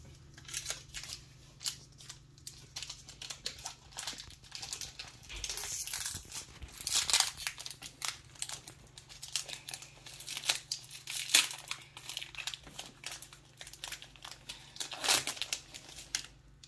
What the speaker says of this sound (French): On va ouvrir un autre paquet.